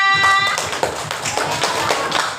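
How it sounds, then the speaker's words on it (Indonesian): Classroom of children clapping together after a group project session, a burst of fairly close hand claps with a few sharper individual slaps, steady for a couple of seconds. "tepuk tangan untuk kita semuanya"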